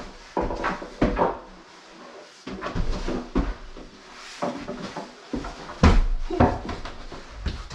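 A newly hung wooden door in a freshly fitted frame during a home renovation swings and knocks repeatedly, giving a series of close, loud wooden thuds and bumps with short pauses in between.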